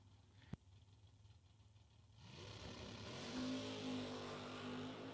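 A 1967 Camaro drag car with a vinyl soft top sits near idle, then its engine surges into a strong, steady roar as it launches and accelerates, heard from a distance at an outdoor drag race.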